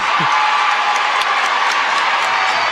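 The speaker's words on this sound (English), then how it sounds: "And you see the whole crowd giving the cheer." A basketball crowd at a Section IX semi-final between Ellenville and Spackenkill cheers loudly and steadily, a dense wash of voices with scattered claps and whoops running throughout.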